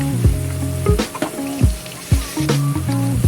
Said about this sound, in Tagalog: Stir fry shrimps with broccoli